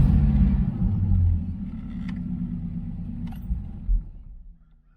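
A 1985 IROC-Z engine idling rough and shaking while in gear, a low uneven rumble with irregular thumps that fades near the end.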